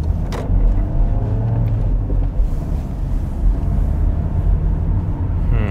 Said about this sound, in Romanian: hai să mergem cu mașina